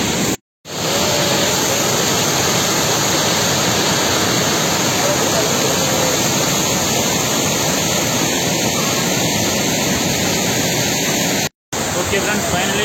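A waterfall pours as a steady, loud, broadband roar close by, unbroken apart from two brief dropouts.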